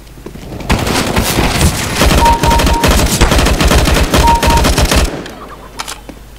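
Automatic gunfire in a Counter-Strike deathmatch on an Italy map, loud dense bursts of rapid shots that roll on for several seconds, then a few scattered shots trail off near the end.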